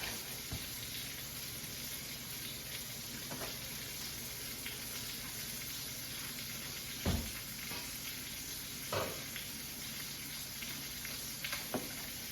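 Potatoes fry in a pan with a steady, even sizzle that stays constant throughout, broken by a few brief clinks or knocks near the middle and end; no talking.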